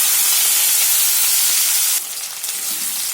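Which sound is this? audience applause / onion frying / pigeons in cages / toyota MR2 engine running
onion frying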